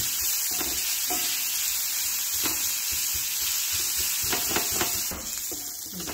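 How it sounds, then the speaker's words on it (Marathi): Onion sautéing in oil in a pan with a pinch of salt, a steady sizzle and hiss with occasional stirring scrapes, close and continuous with no talk. "छान असं परतून घेणार आहे कांदा."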